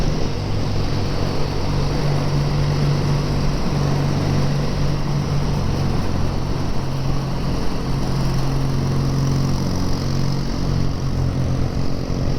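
Several BSA A10 650 motorcycles with near-identical exhaust systems rumble steadily while being ridden, a loud continuous engine drone with layered, slightly differing exhaust tones and wind noise, no talking.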